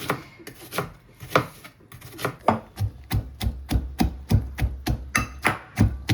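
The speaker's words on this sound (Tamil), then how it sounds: "இஞ்சி உள்ளியெல்லாம் நான் உரையில் இடித்து தான் போட போகிறேன்" Ginger and garlic pounded in a stone mortar, a steady run of sharp thuds that start irregular and settle into a fast, even rhythm, close and loud with no talk.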